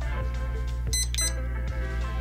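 An RC truck's electronic speed controller emits two short, high power-on beeps over a low steady hum.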